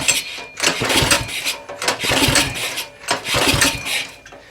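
An Axis M200 mini bike that won't start is cranked with the choke off in repeated pull attempts, each one a short burst of sputtering engine noise that dies away, four tries in quick succession, close and loud.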